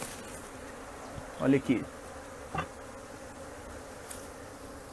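Apis honeybees being shaken into a hive box during a colony rescue, a steady close buzzing swarm with a few brief louder surges, and a voice speaks briefly.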